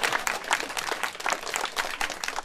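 Outdoor crowd in a city park applauding as thirty colourful, almost golden decorative carp are released into a pond; steady, moderately loud clapping with dense, irregular claps throughout.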